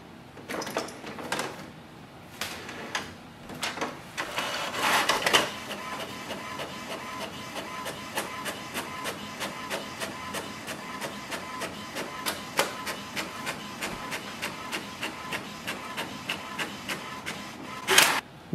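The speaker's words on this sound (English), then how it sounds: "Let's do the printing." An HP Smart Tank 7605 inkjet printer prints a page with rapid, rhythmic clicking and a mechanical whir from close by, running steadily with a few louder knocks.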